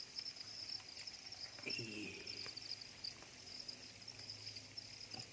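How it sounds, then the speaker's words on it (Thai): Crickets on a cricket farm keep up a dense, steady, high-pitched chirring throughout. A brief low rustle or voice-like sound surfaces midway, and the chorus stays at a moderate level. "ดงจิ้งหรีดอาณาจักรจิ้งหรีดนะฮะ"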